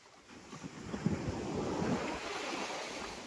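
Sea waves wash onto a beach on an evening walk, a broad rolling surf noise swelling and easing, with wind buffeting the microphone and no voices.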